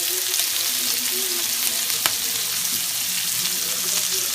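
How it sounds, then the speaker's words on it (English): Chicken browning in a pot for gumbo, a steady bright frying sizzle with occasional stirring clinks, close and continuous with no voices. "I'm going to add a little bit more chicken. So I'm going to let that brown."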